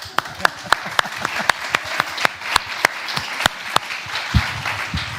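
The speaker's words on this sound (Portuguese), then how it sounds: "Palmas." A church congregation claps in steady rhythmic unison, sharp repeated hand claps over a bed of scattered applause and faint voices, fairly close and lively throughout.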